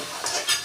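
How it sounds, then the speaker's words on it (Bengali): Fried crab being stirred into a spiced potato mixture in a pan, a brief scrape of utensil against the pan with soft sizzling underneath. "এখন আমি দিয়ে দেবো সেই ভেজে রাখা কাঁকড়া, দিয়ে আবার ওটা ভালো করে নেড়ে নেব।"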